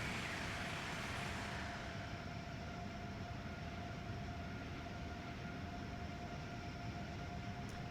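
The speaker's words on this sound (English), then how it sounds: "Oh, and there it is, another train." Passing train in Train Sim World 3 on the New York to Trenton line, a steady loud rumble with a sustained tonal hum and a fading high hiss, continuous throughout with no talk.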